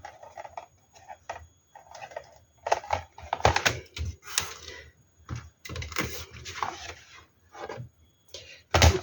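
Cardboard is cut by hand with scissors or a blade, producing irregular scraping, snipping and rasping bursts with short pauses between cuts, close up and with no talking.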